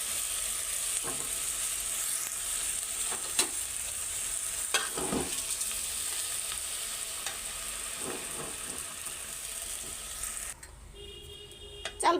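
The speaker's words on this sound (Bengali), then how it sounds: "তেল গরম হয়ে গেছে, তো চালটা ভাজতে দিয়ে দিই। তেজপাতা ছেড়ে দিলাম।" Rice frying in hot oil with a bay leaf in a home kitchen, a steady close sizzle running throughout with a few soft stirring scrapes, easing off near the end.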